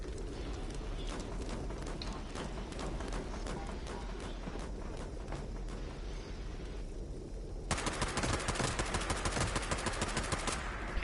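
Rifle and automatic gunfire in the Fallout 76 Nuclear Winter video game, a steady stream of shots that grows into a dense, sharp burst of rapid fire over the last few seconds, with no talk over it.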